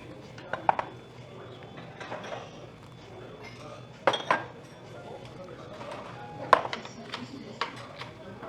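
Scattered clinks and clatter of dishes and cutlery set down on a table at an oyster bossam restaurant, a few sharper knocks standing out over low restaurant murmur.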